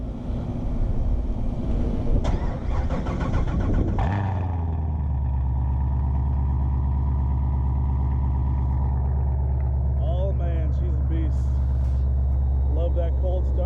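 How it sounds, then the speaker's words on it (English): A car engine cold-starts nearby: a rough cranking clatter, then the motor catches and settles into a loud, steady, humming idle. "Get a little cold start for you real quick before we head on our way."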